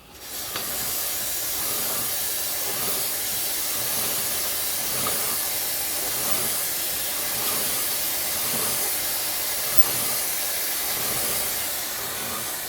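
Chain lube is sprayed onto the chain of a Suzuki GSX1400 motorcycle, a close, continuous aerosol hiss held steady for over twelve seconds with faint rustling beneath.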